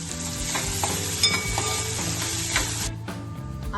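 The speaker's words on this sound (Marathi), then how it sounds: "आता यामध्ये आपण बारीक चॉप केलेला कांदा घालूया." Chopped onion hits a pan of finely cut ginger and garlic for palak matar, a bright steady sizzle with scraping, clinking stirring strokes throughout, close and loud with no talk.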